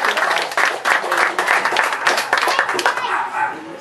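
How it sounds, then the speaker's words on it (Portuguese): Church congregation at a Christmas gathering clapping in a lively burst of applause, with dense overlapping claps, some voices and a dog barking amid the noise. "que possamos nós dar uma salva de palmas para Jesus nesse instante"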